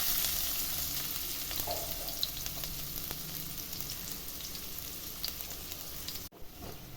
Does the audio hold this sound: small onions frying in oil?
yes